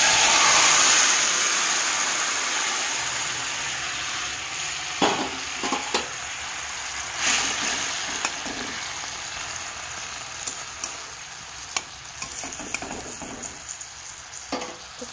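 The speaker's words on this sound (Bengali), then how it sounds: "তেল অলরেডি গরম হয়ে গেছে, এখন আমি ওই মিশ্রণটা ঢেলে দিচ্ছি।" A spice mixture poured into hot cooking oil gives a loud, continuous sizzle of frying, with scattered clinks and scrapes from stirring.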